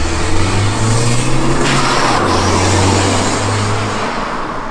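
A BMW E30 fitted with blast pipes revs loudly up close, holding a raw, droning engine note that climbs and settles before easing off toward the end.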